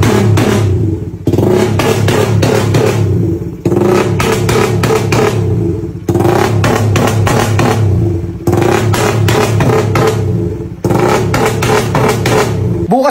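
A motorcycle engine runs loud and close in repeated revving bursts, rising and dropping in roughly two-second cycles with brief dips between, clattering mechanical tone throughout.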